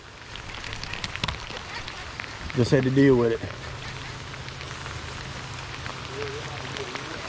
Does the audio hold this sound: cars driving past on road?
no